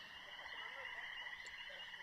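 A frog croaks in a faint, steady, buzzing trill that holds evenly throughout the short stretch, with no voices.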